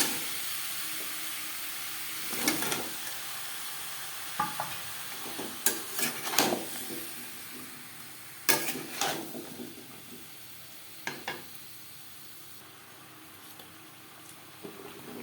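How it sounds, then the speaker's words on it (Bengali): Pumpkin pieces stirred with spices in a pan for a mixed vegetable curry, scattered scraping clatters of the spoon over a low steady sizzle, close and alone without talk. "মশলার সাথে কুমড়োটা ভালো করে মিক্স করে দেবেন"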